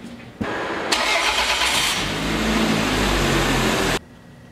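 A car engine cranks and fires up right after an oil change, then settles into a steady, loud idle close by that runs for several seconds before cutting off abruptly.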